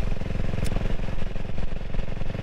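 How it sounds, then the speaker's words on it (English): A CCM Spitfire Six motorcycle engine runs through its exhaust pipes close by. It gives a loud, rapid, throbbing thump at a steady idle-like pace with a little mechanical clatter. "the pure sound of this motor with these pipes. Listen to that."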